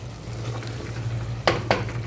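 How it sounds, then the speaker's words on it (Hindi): Chicken being fried and stirred in a pan: a low steady hiss under a droning hum, with two quick scraping strokes of a spoon near the end. "चिकन मैं भून रही हूँ अच्छे तरीके से।"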